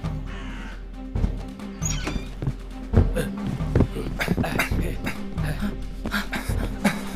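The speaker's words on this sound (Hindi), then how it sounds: "उन बदसूरत काले पक्षियों में से एक है।" Crows caw repeatedly over a busy 2D animation soundtrack with music and voices, the harsh calls of the black birds rising in several bursts against the steady background.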